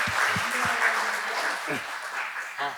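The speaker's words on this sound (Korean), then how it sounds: "힘찬 박수로 감사의 말씀을 드리도록 하겠습니다" A seminar audience at a Korean talk on economic and corporate governance trends claps in a steady burst of applause while someone speaks over it.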